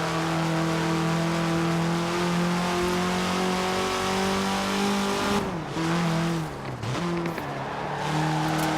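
Car with a Jaguar V6 engine driven in the racing game Forza Horizon 4, a steady loud engine drone that dips and recovers as the revs change, with tire noise and no speech.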